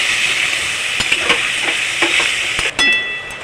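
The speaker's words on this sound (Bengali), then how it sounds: "এবার আমি পরিমাণ মতন জল দিয়ে দেবো" Water goes into a sizzling pan of potato and pumpkin masala for a Bengali ilish fish-head kumro ghonto. Loud, close hissing with a few spoon knocks gives way to a sharper burst near the end.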